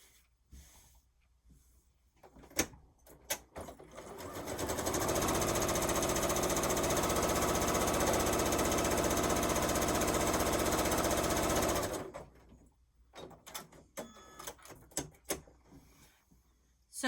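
A sewing machine runs a long, loud continuous burst of stitching across quilt rows, framed by quieter clicks and handling noises before and after the steady motor drone.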